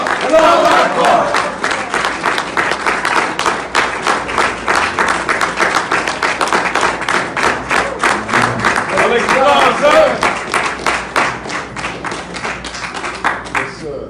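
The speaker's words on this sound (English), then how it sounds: "Bring him over to the round of applause." A mosque congregation breaks into loud, close crowd applause and clapping, a sustained rapid patter of many hands with a few shouts mixed in, swelling and easing slightly before tapering at the end.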